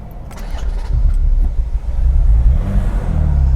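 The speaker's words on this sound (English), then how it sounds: "let me put it onto ignition and start the car" A Ferrari California cranks and fires up close by, the engine catching and swelling into a loud, steady rev-settling rumble over a few seconds with no talking.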